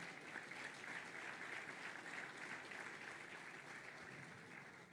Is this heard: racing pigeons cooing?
no